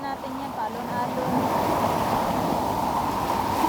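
Ocean waves wash steadily along a shore as a broad, continuous surf roar with some wind, holding at a constant loudness throughout.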